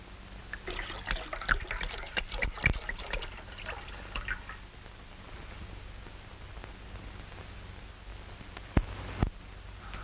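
Grape juice is poured into a bowl, a quiet liquid trickle and fill with a few louder splashes and drips scattered across about ten seconds, no voices over it.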